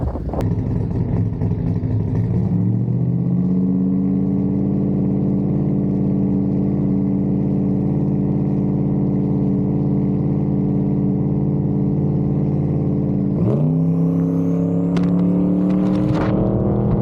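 A race truck sits idling loud and close before the Sunday Super Pro Final, its engine droning steadily, then it suddenly revs and accelerates hard with a sharp rising roar.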